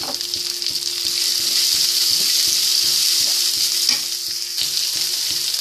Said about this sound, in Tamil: இப்போ வெங்காயம் ஆட் பண்ணிக்கோங்க.